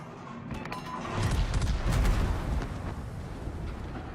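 Heavy naval gunfire from battleships in World of Warships, heard as a cluster of deep booming blasts that swell in the middle and then roll off into a low rumble.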